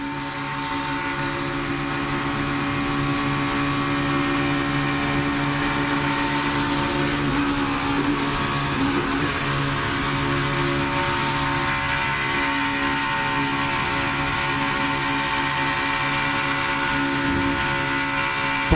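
Stock cars racing at the start of the 2017 Alabama 500 NASCAR race, a steady, dense engine roar from a tightly packed field that holds loud and unbroken throughout, with no voices heard.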